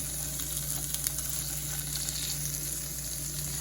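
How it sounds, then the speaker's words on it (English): Green onion and cooked squash frying over medium heat in hot red palm oil in a pan, a continuous even sizzle with a steady hiss and a low hum beneath, close and unbroken, no talk. "the oil is hot in the pan, so now I add the green onion and the squash"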